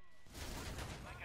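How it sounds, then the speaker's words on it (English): An automatic assault shotgun firing in GTA 5 Online, a rapid burst of loud, dense blasts that rolls on for about a second, fairly quiet overall. "this is a semi-automatic shotgun. Actually, it's an assault shotgun, so it's automatic"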